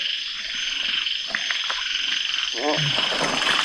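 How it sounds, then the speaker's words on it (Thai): Banded bullfrogs croak in a rhythmic, rattling burst against a steady wash of insect and night noise, fairly close and loud. "กบเลย"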